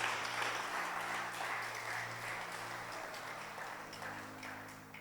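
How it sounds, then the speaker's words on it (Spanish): A church congregation applauds together during a Sunday sermon, a steady wash of clapping held under a low sustained hum that slowly fades. "Denle un aplauso al Señor"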